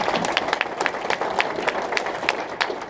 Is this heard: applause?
yes